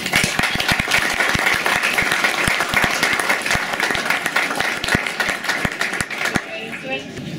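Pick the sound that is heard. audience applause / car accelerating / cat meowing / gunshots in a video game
audience applause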